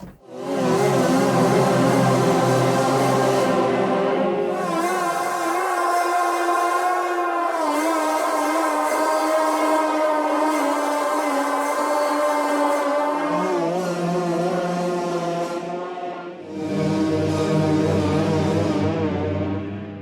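A lush, sustained guitar pad from a Soundpaint emotional guitar pads library shifts through several held chords with heavy, wavering vibrato, loud and alone for about twenty seconds.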